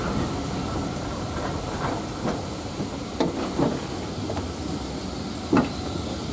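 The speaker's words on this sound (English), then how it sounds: "Great Western tank engines." Great Western steam tank engine working at a railway steam gala, a steady loud hiss and rumble with a few sharp clanks and puffs standing out, no voices over it.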